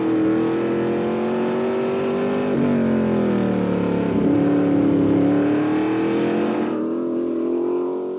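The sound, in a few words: Formula 5000 race car engine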